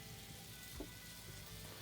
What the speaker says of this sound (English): Just keep frying.